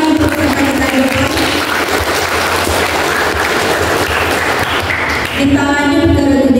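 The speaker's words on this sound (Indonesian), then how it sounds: "tepuk tangan lagi yang meriah untuk peserta kita yang depan" An audience claps for contestants at a team competition, producing dense, loud, continuous applause that fills the whole stretch, with a voice faintly mixed in.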